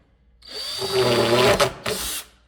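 A handheld power drill spins up for about two seconds in a workshop restoration, a loud close whine with a brief dip and restart, without speech.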